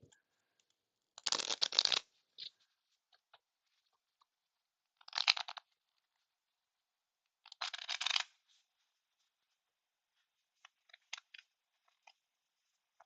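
Map cards from a tabletop board game deck shuffled in three quick riffling bursts, crisp and close, with a few small taps and clicks in between in an otherwise quiet room.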